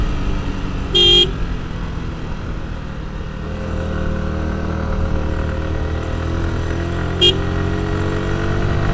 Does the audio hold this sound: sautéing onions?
no